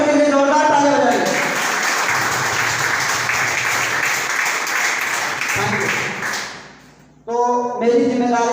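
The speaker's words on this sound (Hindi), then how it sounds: "आदरणीय कौशल सर और सरवन सर के लिए जोरदार ताली बजाएंगे" An audience at an RCM marketing meeting in Sangrampur gives loud, sustained applause for two guests, many hands clapping together for several seconds before fading out, with voices speaking just before and after.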